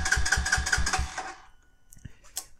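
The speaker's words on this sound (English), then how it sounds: "It will crank over" A Brixton Felsberg 125 motorcycle cranks over without firing, with about six rapid rhythmic starter pulses close by, then the whirring stops and a few small clicks follow in near silence.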